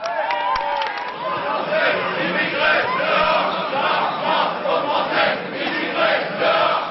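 Front National activists cheer and chant for Le Pen at a political rally, a dense, loud crowd roar with rhythmic shouted chanting that holds steady throughout.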